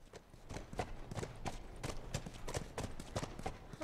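A horse's hooves clip-clop steadily at a walking pace in The Last of Us Remastered, evenly spaced thuds close by and fairly faint, with no talking over them.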